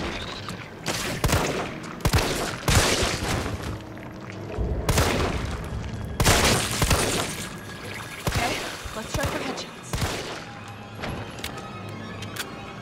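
Rapid bursts of gunfire aimed at zombies in Resident Evil 3, loud and close, coming in irregular volleys with short pauses and booming hits between them, no talking over it.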